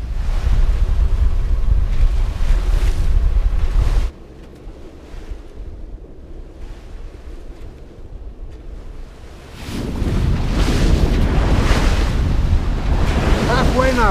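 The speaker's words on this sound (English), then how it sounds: "The wind has picked up a little bit, but it's all good." Sailing in the Norwegian Sea across Vestfjorden toward Værøy, a sailboat meets a northwesterly breeze, with loud gusting wind buffeting the microphone and waves washing against the hull, easing into a quieter lull before the roar surges back.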